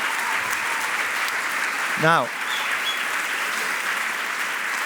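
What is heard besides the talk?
conference audience applause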